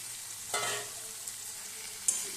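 Potatoes and chicken rubbed with salt and turmeric drop into hot oil with a sudden burst of sizzling, settling into a steady close frying hiss broken by a sharp clink of a spoon near the end.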